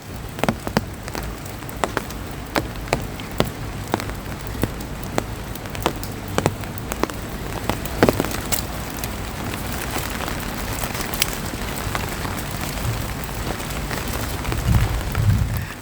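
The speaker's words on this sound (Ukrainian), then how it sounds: "Дощик капає." Rain patters steadily with scattered sharp drips tapping close by, light and irregular over a soft background hiss.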